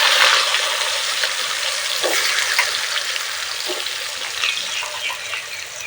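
Potato pieces frying in hot oil with a little turmeric and salt, giving a steady, close hiss and crackle with occasional scrapes of stirring; no voices.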